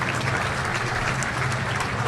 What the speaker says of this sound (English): let's give him a round of applause. Tony Dorsett, everybody.